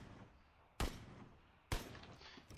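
Two sharp gunshots in the video game PUBG, sounding about a second apart, each with a quick loud crack fading into a short tail over quiet background.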